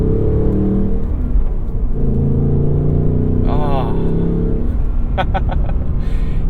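A 2024 Ford Mustang GT with a traditional V8 and six-speed manual rumbles steadily throughout, loud and close, with someone talking over it.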